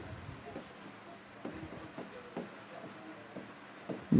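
Chalk or marker writing on a classroom board during a physics lesson on ammeters, with short scratchy strokes in irregular bursts close by and a faint low background hum.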